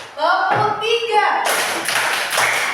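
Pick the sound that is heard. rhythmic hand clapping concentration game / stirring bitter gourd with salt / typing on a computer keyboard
rhythmic hand clapping concentration game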